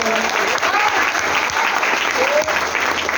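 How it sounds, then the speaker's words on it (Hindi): A business seminar audience breaks into loud, sustained applause, a thick continuous roar of clapping close to the listener, with a faint voice briefly audible underneath. "जोरदार तालियां उनके लिए"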